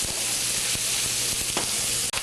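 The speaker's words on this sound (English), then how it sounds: "You just want to lightly saute the onions." Onions sauté lightly in a hot pan, giving a steady, close sizzle with a few soft scrapes and no voices.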